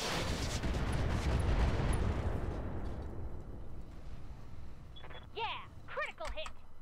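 Heavy mech weapons fire in the game Roguetech, a deep rumbling blast that swells and fades, followed by a few sharp metallic mechanism whines near the end.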